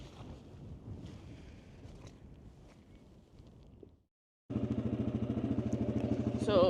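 A farm bike, a quad motorbike, rumbles steadily across waterlogged, sodden lambing fields, its engine loud and close with a constant throb, after a stretch of wind buffeting and a brief silent gap.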